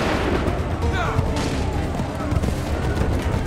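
Musket volleys from ranks of soldiers in a Revolutionary War battle in Assassin's Creed 3, dense crackling gunfire rolling continuously over a loud battlefield din, with shouted voices mixed in.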